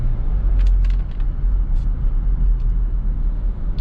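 A used Kia Carnival Limousine diesel minivan drives along, its low, steady engine and road rumble filling the cabin, with a few faint higher clicks over the drone.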